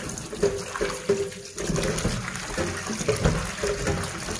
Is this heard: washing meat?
yes